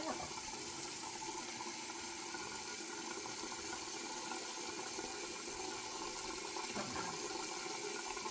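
Tap water runs continuously into a sink, a steady close hiss and splash at constant level with no break.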